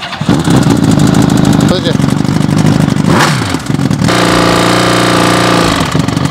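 A homemade vehicle's engine cranks, catches and revs, sputtering unevenly before settling into a loud steady rumbling idle close by, while someone speaks briefly over it.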